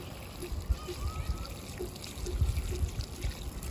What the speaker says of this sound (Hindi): इसका थोड़ा सा पानी डालेंगे भाई इसके फेस के ऊपर के